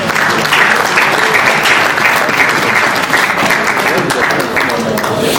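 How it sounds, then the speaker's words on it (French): Loud, sustained applause from a gala audience at an awards ceremony, a dense steady wash of clapping lasting throughout, close and full. "Est-ce qu'on peut applaudir pour elle s'il vous plaît?"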